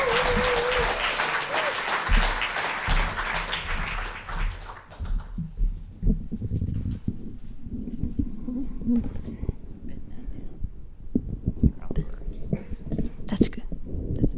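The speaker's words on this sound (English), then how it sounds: "Let us welcome to the stage with thunderous applause, Emma." Audience at a liars contest applauds loudly for about five seconds to welcome a speaker, then the clapping dies away into quiet room noise with faint taps and a voice.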